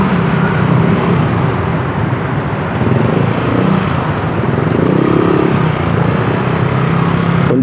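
Heavy road traffic on a city street near an expressway in Manila, a loud, steady wash of engines and passing vehicles with no voices.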